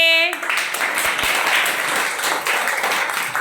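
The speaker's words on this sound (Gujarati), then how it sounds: "તો પહેલા આપણે બધા એ ત્રણેય બહેનો માટે તાળીઓ પાડીએ" A class of schoolchildren claps for three girls about to act out a story, broadband clapping starting after a brief tone and continuing steadily throughout, moderately loud and close.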